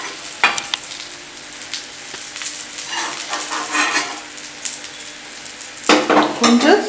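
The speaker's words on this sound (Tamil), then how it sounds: "இப்போது பொரிச்சிக்கலாம்" Small cut pieces of maida biscuit dough fry in hot oil with a steady close sizzle, broken by a few scrapes and clinks of a utensil against the pan, louder near the end; no talking.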